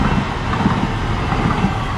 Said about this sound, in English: It's like a test train coming in.